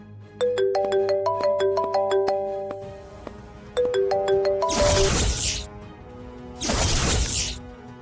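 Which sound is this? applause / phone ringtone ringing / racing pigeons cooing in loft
phone ringtone ringing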